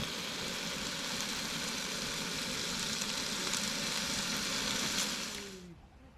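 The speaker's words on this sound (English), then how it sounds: "the sizzling sound of bacon on the gas" Steady, dense sizzling of bacon frying on a gas stove at a campsite in Dinokeng Game Reserve, a constant crackling hiss that fades out at the end.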